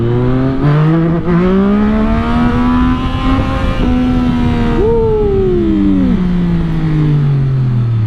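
A 2022 Yamaha MT-09 with a tuned ECU, running in power mode, accelerates hard, its loud engine note climbing and falling steadily as the revs change, with no talk over it.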